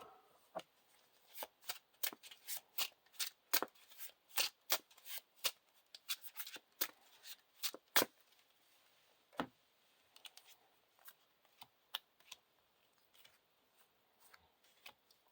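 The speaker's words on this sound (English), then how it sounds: "And shuffle the Tree People back into the encounter deck." A deck of game cards for The Lord of the Rings card game being shuffled by hand, a run of sharp riffling bursts and crisp clicks repeating unevenly, close and clear with no talk.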